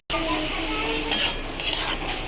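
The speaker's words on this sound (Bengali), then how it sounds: "হলুদটা দিয়ে একটু নেড়ে দেবো" Turmeric is stirred into food frying in a pan, producing a brief, close spoon scraping over a soft sizzle.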